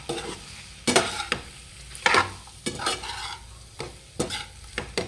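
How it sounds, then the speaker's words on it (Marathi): Chicken is stirred in a pan with red chutney and homemade masala for a dry chicken fry, with repeated scraping spoon strokes over a light sizzle coming every second or so, close and clear, with no talking. "आता हे सगळे मसाले आपल्याला तर छान घालवण्यासाठी मिक्स करून घ्यायचे"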